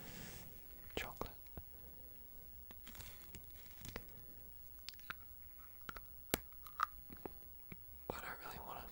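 Milk chocolate with toffee pieces is chewed close to the mic, with soft sticky crunches and small clicks scattered under quiet whispered talk.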